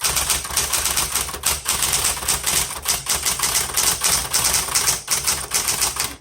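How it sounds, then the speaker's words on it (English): A 1970s Smith Corona Electra 210 electric typewriter typing steadily, a close, loud run of crisp key strikes in quick rhythm, with a few brief pauses and no talk. "and let's keep typing"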